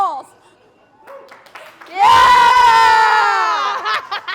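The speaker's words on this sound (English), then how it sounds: "Give me a round of applause." A small group bursts into loud cheering, whooping and clapping after a brief quiet stretch with a few faint voices, celebrating a district championship win by a youth basketball team.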